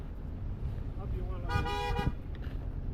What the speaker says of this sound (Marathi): गाडी आहे पाठी आपल्या नाही ना.